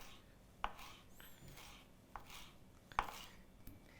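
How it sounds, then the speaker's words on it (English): Knife drawn through fresh dill on a cutting board, a few sharp chopping taps spaced irregularly, faint and close, with soft rustling between. "So I have that lovely dill that I'm just going to drag my knife through."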